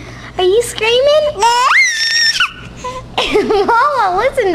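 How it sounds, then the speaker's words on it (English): A baby lets out loud, high-pitched squealing screams in several bursts, rising and wavering, close to the listener with little pause between cries. "Are you screaming?"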